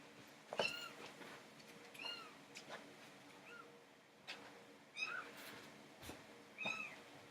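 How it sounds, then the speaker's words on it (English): Several thin, high-pitched kitten meows come at irregular intervals against a quiet background, some faint and some a little closer. "I just heard some meows peeping"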